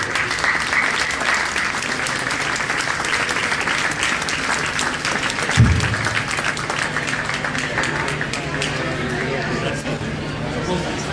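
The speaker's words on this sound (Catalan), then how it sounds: "Demano un aplaudiment per Nelson" At a town hall ceremony during Santa Bàrbara's olive oil, citrus and commerce fair, an audience applauds steadily and fairly close for the whole stretch, with faint chatter and a brief thump partway through.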